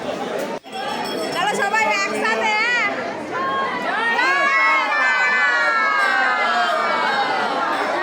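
A dense crowd packs Tarapith temple, with loud continuous chatter, shouting voices and children's cries blending into a close, steady roar throughout.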